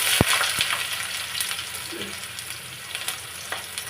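Chopped green chili, cumin seeds and onion fry in a pan with a steady, close crackling sizzle, broken by a couple of sharp utensil knocks near the start and soft stirring scrapes throughout, with no talking.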